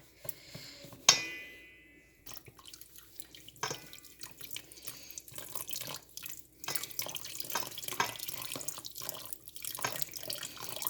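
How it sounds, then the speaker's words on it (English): Water runs and splashes into a pot of thickening haleem, a steady pouring and dripping stream with a sharp clank near the start, fairly quiet and alone with no voices. "I think I need to put some more water into it."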